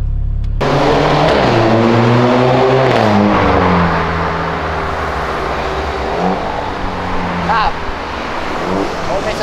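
A Volkswagen Golf TSI engine revs hard and climbs in pitch, its loud, sustained drone rising and shifting through gears close by, with voices talking over the engine noise.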